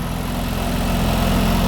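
A Ford Escort Mk2 engine idles running a bit rich, a loud, close, steady low throb with an even rapid pulse and no voices over it.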